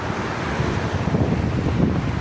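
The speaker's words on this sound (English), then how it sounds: "Wow, strong wind." A strong, high wind roars against the microphone outdoors as a steady, loud buffeting rush, with no voices heard.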